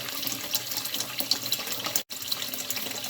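Tap water pours steadily into a cooking pot, a continuous close splashing stream with one brief break partway through.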